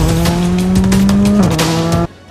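A loud Škoda Fabia R5 rally car engine holds a steady, buzzing drone, dips slightly in pitch, then cuts off abruptly near the end.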